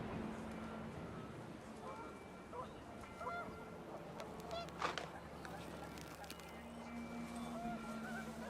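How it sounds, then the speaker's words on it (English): Panicked geese honk in the video game What Remains of Edith Finch, a scattered cluster of calls peaking midway over a steady windy, rumbling ambient bed with faint voices. "panicked geese appeared and quickly went"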